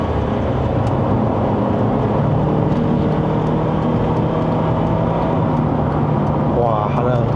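Proton Perdana 2.4 petrol engine in a 2014 sedan, heard from inside the cabin on a Malaysian test drive, droning steadily and loudly throughout with a rising rev tone near the end, while people talk over it.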